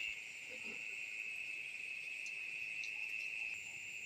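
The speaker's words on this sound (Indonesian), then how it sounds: "Ada suara kuak, suara jangkrik, suara pokoknya suara-suaraan lah, suara-suara malam gitu." Crickets chirp steadily at night beside a rice field, a continuous high trill with a second fainter band above it, fairly close and even, alone with no talk.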